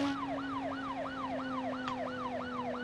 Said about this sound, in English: Get rid of the siren because it's getting annoying.